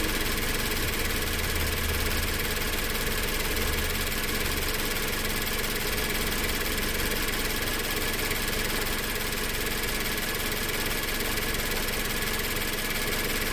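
A 2015 Scion FR-S 2.0 engine fitted with an aftermarket intake idles steadily and up close, with a continuous mid-to-low rumble and a faint vibration. It runs lean, and the idle slowly settles. No one speaks.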